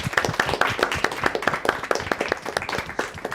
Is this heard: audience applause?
yes